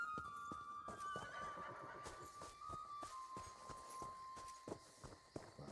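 A horse in a PC video game neighs and whinnies over steady clip-clopping hooves, loud and close, with the hoofbeats running continuously beneath the call.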